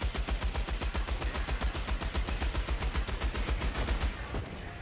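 Heavy machine gun firing in Helldivers 2, a steady rapid stream of loud, evenly spaced shots for several seconds that tails off at the end.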